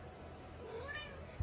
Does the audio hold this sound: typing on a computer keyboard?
no